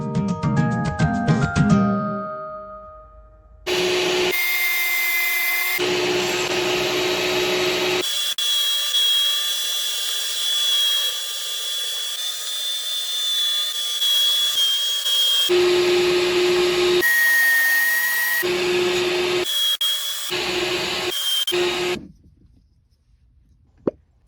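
Power saw with a worn, smoking blade cutting, a loud close whining grind in sustained bursts with short gaps and shifting pitch, ending abruptly.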